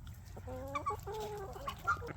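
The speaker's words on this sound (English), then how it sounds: "That's a rooster." Chickens cluck in short, close bursts of rising and falling calls on a farm yard with roosters, guinea fowl and ducks nearby, the calls fairly quiet and unaccompanied.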